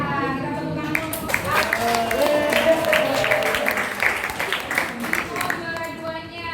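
A school gathering's audience claps for a second-place competition winner, a moderate patter of applause rising and sustained for several seconds with a voice speaking over it.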